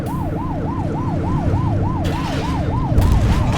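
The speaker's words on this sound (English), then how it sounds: "They won't know if you want to pull them over if you don't turn your siren on." A police car siren in The Precinct open-world video game wails in a fast, regular up-and-down sweep, loud and close over a steady engine rumble, with no talk.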